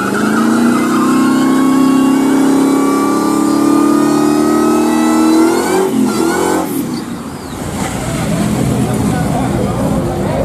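Cammed Ford F150 SVT Lightning with intercooler revs hard at a drag track, loud rising engine roar held for several seconds before cutting off into rumble, with people talking nearby.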